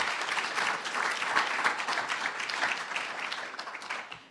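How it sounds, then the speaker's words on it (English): Morning audience at a career education and professional development seminar breaks into steady applause, a dense wash of clapping held at even loudness for a few seconds before tapering off. "Give them a round of applause just for being here this morning."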